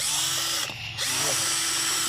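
An electric drill with a mixing attachment churns paint in a bucket at home, a loud whirring drone that briefly cuts out and then resumes.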